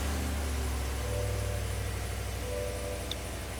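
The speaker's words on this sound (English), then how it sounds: "we should be able to start the vehicle as normal." A Cadillac Escalade engine started with a dead key fob, a steady low idle rumble throughout with no speech.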